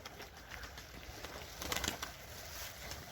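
Young pigeons flying and flapping their wings outdoors, with soft flutters and faint coos over a steady background hiss and a brief, slightly louder flurry of wingbeats in the middle.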